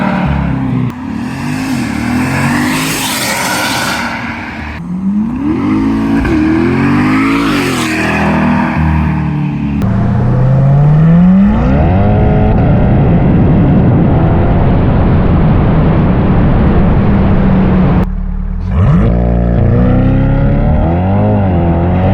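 A C8 Corvette E-Ray with a Corsa exhaust revs up close and loud, with several rising blips early on, then a long sustained climb and hold before a brief cut and more revving.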